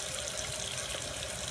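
A sink tap runs water steadily while makeup brushes are rinsed, a close, continuous broadband hiss with faint splashing texture and no talk.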